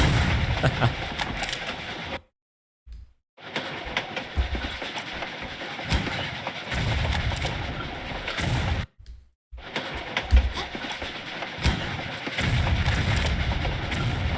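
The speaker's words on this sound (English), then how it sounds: "fire off a grenade, ensure it hits these guys, and hope that the cluster of the grenades will kill both assassins" Super grenade clusters exploding alongside gunfire in Tomb Raider IV Remastered on a desert railroad, bursts of blasts and shots with a rumbling train-like undertone, broken by two short silent gaps.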